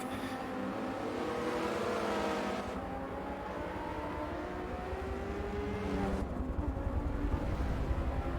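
A Porsche race car in a racing video game roars steadily down a straight at high speed, its engine holding a sustained, fairly distant drone with shifting pitch and a couple of changes in tone.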